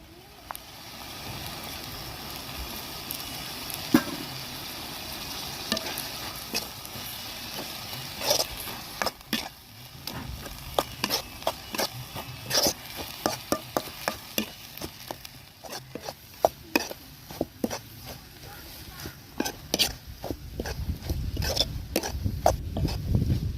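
Drumstick leaves being stir-fried with egg in a pan, giving a steady low sizzle broken by frequent sharp scraping and clinking strokes of a spatula against the pan, close and fairly loud, with no talking.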